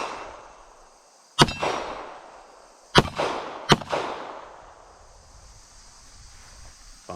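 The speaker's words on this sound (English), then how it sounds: "Just going to shoot some steel." Three sharp pistol shots from a Ruger Security 380 firing Browning X-Point Defense rounds at steel targets outdoors, each crack trailing off in a ringing decay, the second and third close together, with no talk.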